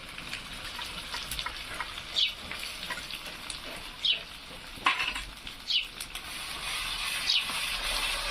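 Onion and coconut paste frying in hot oil, a steady sizzle with intermittent scraping and stirring clinks of a spoon against the pan, close by with no talking.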